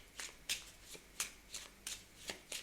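Tarot cards being shuffled during a card reading, a series of crisp riffling bursts repeating roughly every third of a second, close and fairly quiet, with no voices.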